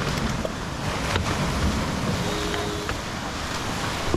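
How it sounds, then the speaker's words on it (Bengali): Ocean surf rolls steadily onto the beach at Mandarmani during high tide, a broad continuous wash of waves with wind buffeting the microphone throughout, no voices present. "এখন কিন্তু জোয়ার আছে, প্রচুর ঢেউ।"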